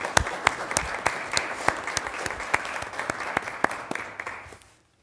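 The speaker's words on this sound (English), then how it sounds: "So y'all would stand up and take some applause because you're the representatives of the other 14." Applause breaks out at a city council meeting, a modest group clapping with sharp separate claps over a softer bed, thinning out and stopping just before the end.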